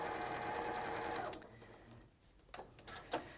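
A domestic sewing machine runs a steady, fast whirring stitch along a quarter inch seam for over a second, then stops, leaving faint handling clicks and rustles.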